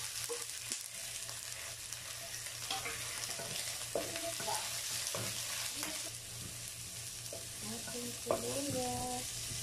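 Onions go into a pan with garlic already fried golden brown, frying with a soft steady sizzle and occasional scraping stirs and clinks of a spatula, fairly quiet and without talk.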